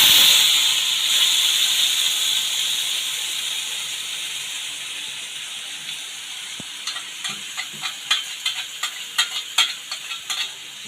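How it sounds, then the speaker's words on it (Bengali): Momo filling paste hits hot oil in a wok, a loud steady hiss that slowly fades, followed by a run of rhythmic scraping strokes as it is stirred. "কড়া গরম হয়ে গেছে, এবার ওর পেস্টটা আমি কড়াই দিয়ে দেব"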